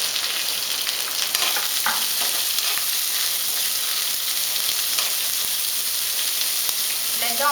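Large onion frying in a pan for a bhindi masala gravy, giving a continuous bright sizzle with occasional soft stirring scrapes, close and steady with no talking.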